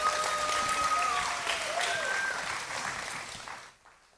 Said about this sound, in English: Let's go ahead and give her a round of applause again.